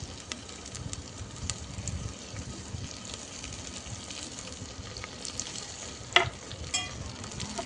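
Green chilli and ginger paste sizzles steadily in a pan for a kadhi with green pigeon peas and curry leaves, with soft stirring scrapes and a sharper clink near the end, heard alone.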